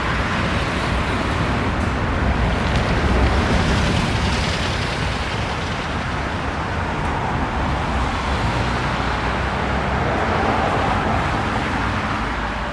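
Nishitetsu buses driving along a tree-lined city street, with a loud, continuous broadband roar of passing road traffic that barely changes across the whole stretch and no voices.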